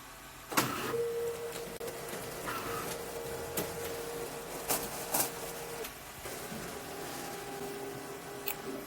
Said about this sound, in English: Give it a second, and then the shirt will load up in the printer.